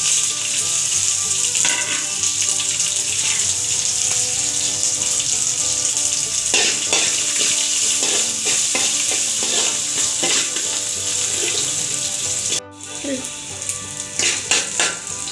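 Shallots, garlic and ginger sizzle steadily in a pan of hot oil for a Kerala fish curry, with occasional stirring scrapes and a brief clatter near the end; no talking.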